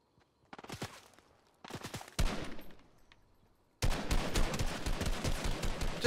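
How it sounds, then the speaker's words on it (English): Gunfire in the video game Fortnite comes as scattered short bursts of shots, building to a sustained rapid volley near the end, with no voices. "I can hear gunshots. It is popping off around here somewhere."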